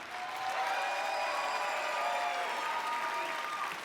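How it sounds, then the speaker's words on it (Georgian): A studio audience at a music battle show claps in one dense burst that swells quickly and stays steady for a few seconds, with a few faint cheers mixed in. "დიდი მადლობა აპლოდისმენტებისთვის"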